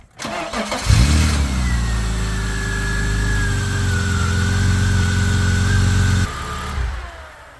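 BMW E36 engine cranking and firing up after a fuel injector rebuild, then settling into a steady loud idle with a slight rev before it shuts off near the end; no talking.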